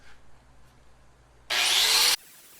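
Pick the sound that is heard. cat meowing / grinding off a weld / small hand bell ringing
grinding off a weld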